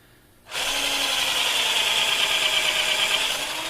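A small, low-powered electric drill with a worn bit bores into wood for a chainsaw carving repair, starting abruptly and whirring steadily and loudly, close up and alone.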